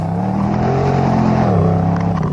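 A supercharged Nissan Y62 Patrol V8 with remap and 3.5-inch custom catback exhaust revs up, a deep, loud throaty roar rising and falling in pitch, heard close with no talking.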